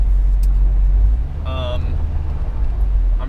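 A car drives along the road to a parts store, a steady low engine and road rumble with a brief higher tonal whine midway through.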